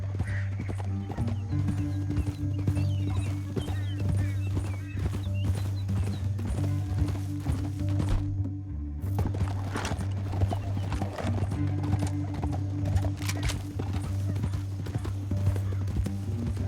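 Rhythmic clip-clop of galloping horse hooves over a steady low rumble, with a brief whinny; continuous and fairly close, in Red Dead Redemption 2.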